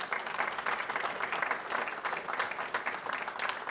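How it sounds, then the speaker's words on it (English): An audience at a U.S. Senate award event for Chesapeake College claps in steady, dense applause that holds at an even level for the whole stretch, with no voices on top. "And give yourselves a round of applause."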